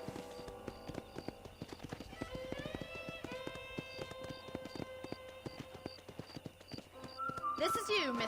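Horse hooves clip-clopping at a steady walking rhythm in the video game Red Dead Redemption, close and even beneath music and game dialogue, with a brief whinny near the end.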